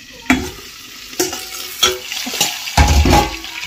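Meat frying in a pan sizzles steadily while being stirred, with several sharp scraping and clattering bursts of the utensil against the pan and no voices.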